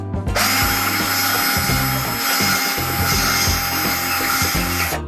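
A power drill bores screw holes into a wall for anchors during a home install of an Amazon Smart Thermostat, giving a steady, close, continuous whine with no talking.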